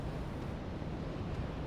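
Wind blowing across a high castle wall in the video game Dark Souls 3, a steady broadband roar with no distinct gusts, fairly loud and continuous on its own.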